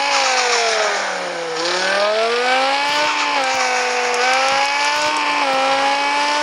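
A modified BMW's engine in a racing video game drones loud and close, its pitch dipping, then climbing and wavering through steady revving with no pauses.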